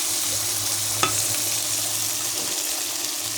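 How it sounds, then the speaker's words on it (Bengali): Spice paste sizzling and frying in oil in a pan for a goat fat and potato dish, a steady close hiss with one sharp stir or utensil tap near the start. "মশলা থেকে তেল ছিটে গেছে"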